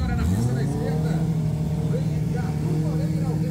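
A Turbo B category drag racing car makes its qualifying run in the left lane, a steady loud engine drone holding throughout, with a commentator talking over it.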